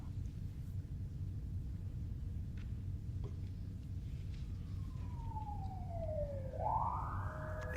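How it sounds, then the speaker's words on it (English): A police siren in a video game swoops downward and then rises again as a single wail late in the sequence, heard over a low, steady rumble. "Man, what's that noise out there? It's a siren."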